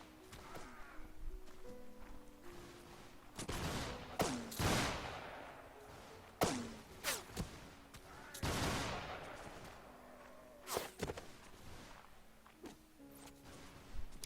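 Volleys of musket fire from Mount & Blade Warband's 1776 American Revolution mod, with several loud, sharp bursts spread across the battle over a low, continuous backdrop of battlefield noise.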